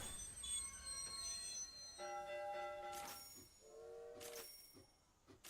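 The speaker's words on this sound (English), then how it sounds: "Come on, train. Get out of the way. This is our new steel train, of course." A steel train rolls along rails in the railway-building video game Railroad Corporation, with high metallic wheel squeals and ringing tones over a steady low rumble, and a few brighter clanks partway through.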